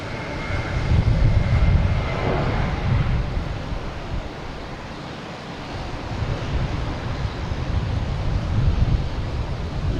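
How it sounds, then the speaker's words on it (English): A Delta Airbus A220 landing at Boston Logan, a broad roaring jet engine rumble that swells and eases over several seconds, mixed with wind buffeting on the microphone, with no talk. "Coming in here, Delta coming in from Raleigh, Durham, an A220."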